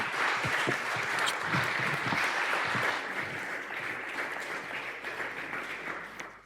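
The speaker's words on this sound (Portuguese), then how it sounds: "eu quero que lhe dê um grande salva de palmas pelo esforço que ela fez para estar aqui" An audience applauds loudly and steadily, a dense wash of clapping that continues throughout and tapers slightly toward the end.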